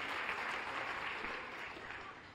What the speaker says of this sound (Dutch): applaus voor Margreet.